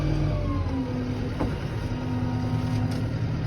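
A vehicle engine with a mower attached shifts down to slow gear outdoors in winter, a loud, steady mid-pitched drone that holds throughout with no talking.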